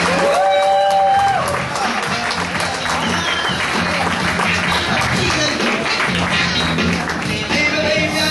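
Comedy club audience at The Ice House applauding a comedian, dense sustained clapping with some crowd noise, loud and continuous throughout after a brief voice at the start.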